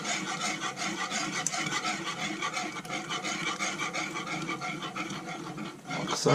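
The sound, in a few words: stirring Sri Lankan watalappam dessert mixture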